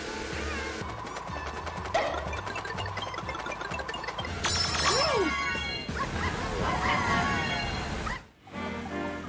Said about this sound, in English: You hear the dog, like, arr, arr, arr